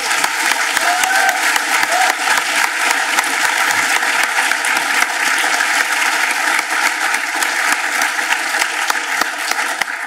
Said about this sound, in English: please give our presenters a round of applause as well